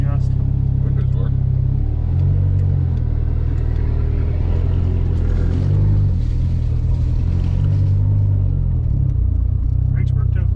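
A Dodge SRT-4 with a slightly lean fuel mixture idles steadily just after starting, a loud, continuous low rumble with small swells in engine speed, while people talk nearby.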